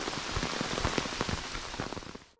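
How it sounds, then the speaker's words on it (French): Heavy rain drums on an umbrella on a Tuscan hilltop, a dense steady patter of big drops striking close by for a couple of seconds before cutting off. "Les grosses gouttes de pluie passent au travers du parapluie."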